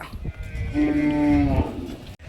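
A single long, deep moo from a buffalo nearby at a buffalo market in Ranebennur, rising and holding for over a second before trailing off.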